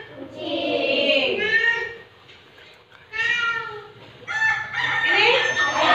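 A rooster crows loudly twice, long stretched calls with a gap between, mixed with some clucking and a meow-like cry nearby.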